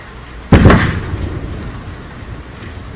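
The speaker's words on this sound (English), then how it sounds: "About 5 seconds in, you can hear that sonic boom." A sonic boom heard over the Orlando to Tampa area: one sudden loud thud-like blast with a quick double crack, then a low rumble that fades away.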